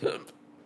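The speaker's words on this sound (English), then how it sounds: "gave me hiccups" One short, close hiccup from a person, a quick abrupt gulp that fades out almost at once.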